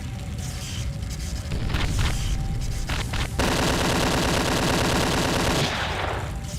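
Gunfire from a browser shooter video game where the player fights through a neighborhood: bursts of rapid automatic shots with booms, turning into a sustained loud machine-gun rattle mid-way, then easing off near the end.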